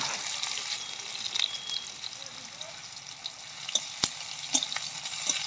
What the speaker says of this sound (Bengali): একটা পেঁয়াজটাকে একটু ভাজা ভাজা করে